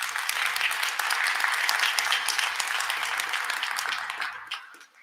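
Sustained applause from a large audience at the City of Flint state of the city address, broad and steady before tapering off near the end, with no talk over it.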